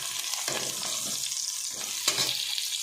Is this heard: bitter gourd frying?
yes